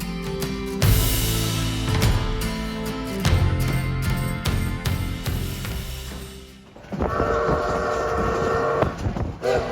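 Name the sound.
Durango and Silverton narrow gauge railroad train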